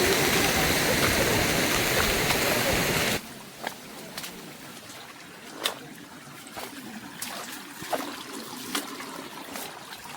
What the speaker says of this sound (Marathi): वॉटरफॉल लागतात जाता आता.